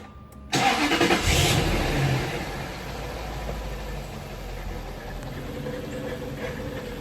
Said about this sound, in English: I'm just going to start the engine